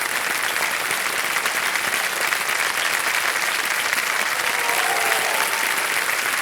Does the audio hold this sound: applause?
yes